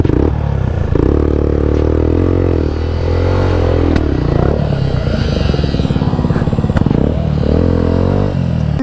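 A motorcycle engine revving hard while the bike is ridden off-road up a climb, loud and continuous and close, with clattering and scraping throughout.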